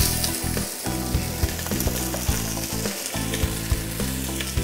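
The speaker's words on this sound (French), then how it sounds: "On met à chauffer l'huile d'olive pour faire revenir les oignons." Onions frying in hot olive oil over very high heat for a homemade tomato sauce, a loud, dense close-up sizzle with frequent crackles and stirring knocks, no voices.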